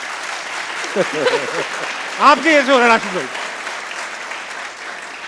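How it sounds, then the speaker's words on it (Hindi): Studio audience claps briefly on a talk show set, a short burst of applause under and between continuing speech from a host. "जरा तालियां बजाएं।"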